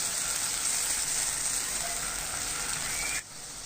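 A medium-sized ripe tomato sautés in a hot pan, giving a dense, even sizzle that hisses steadily up close before dropping off sharply near the end.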